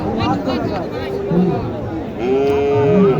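Cattle low several times with long, drawn-out moos at a busy cattle market, close and clear over the crowd's babble, while someone talks nearby.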